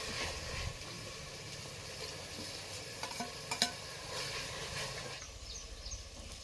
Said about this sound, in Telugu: ఇప్పుడు మసాలాలంతా బాగా ఫ్రై అయ్యాయండి